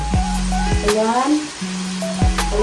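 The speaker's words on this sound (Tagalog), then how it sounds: "Haluin ko lang ito para magbisa-bisa rin ito." Sautéed mung beans with pork sizzling in a pan as they are stirred, a steady frying hiss with occasional scraping, while a person talks over it.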